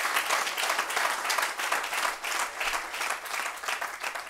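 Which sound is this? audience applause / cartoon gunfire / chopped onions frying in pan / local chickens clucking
audience applause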